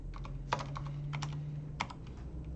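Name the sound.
typing on a computer keyboard, pressing Enter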